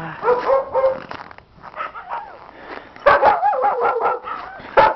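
Yakutian sled dogs kept in outdoor cages at minus 42 degrees Celsius in Siberia bark and yip in bursts, several animals at once, close and loud with short pauses between volleys.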